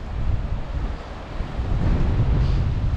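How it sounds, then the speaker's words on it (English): Steady coastal wind on Cornish sea rocks near Pentire Headland rushing and buffeting across the microphone, a low roaring gust that swells louder toward the end, with no voices. "All week it's been really windy."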